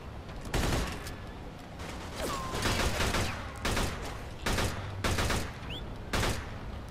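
Gunfire in the video game Mafia 2, a burst of broadband shots in several clustered volleys, loud and close, sounding like a sustained fusillade with short gaps between bursts.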